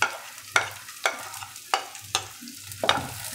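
Onion softens in a frying pan with a low, soft sizzle, punctuated by about six sharp scrapes of a spatula stirring at roughly half-second intervals, with no voices.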